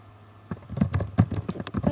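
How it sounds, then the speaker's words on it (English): Typing on a computer keyboard while writing a blog post: a quick, uneven run of nearby key clicks and taps, starting after a brief quiet moment, with no voices. "Okay, so you're typing away, etc."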